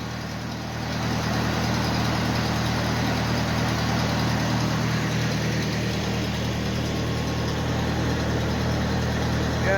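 A low, steady tractor engine idles in the cold without a break, a deep rumbling drone with a constant hum that holds evenly throughout.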